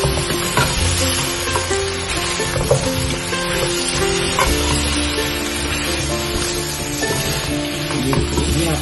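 Fried Chicken 65 being stirred into a hot pan, a steady loud sizzle with scraping stir noises running throughout, close and with no talking.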